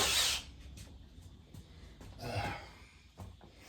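A Kobalt cordless drill drives a screw into O scale model train benchwork, with a short whirring burst at the start and another buzzing run midway, fairly close and otherwise quiet.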